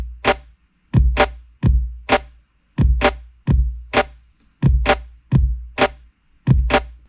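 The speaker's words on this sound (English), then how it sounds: "I'm going to place a kick drum on the first beat of the bar." A programmed UK garage kick drum pattern in Logic Pro X, with punchy deep kicks repeating at an even tempo, about a dozen hits alone and clean.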